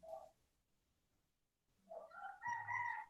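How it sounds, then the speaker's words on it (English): A rooster crows once near the end, a rising then sustained harmonic call, preceded by a brief faint sound and a stretch of near silence; it is fairly close and heard alone without talk. "Hear the rooster?"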